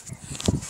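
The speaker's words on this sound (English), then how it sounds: "Can y'all hear those dogs?" Far-off dogs give a few short barks outdoors, clustered in one faint burst midway through a brief moment.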